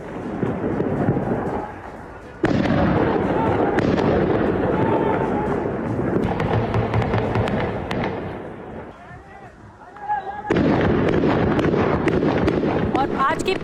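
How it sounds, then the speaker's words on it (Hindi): Dense, crackling gunfire rattles almost without pause during an armed clash in Ramallah, with sharp cracks rising and falling in loudness as a voice talks over the shooting. "यहाँ पूरे इलाके में हर तरफ गोलियों की तड़तड़ाहट सुनाई दे रही है,"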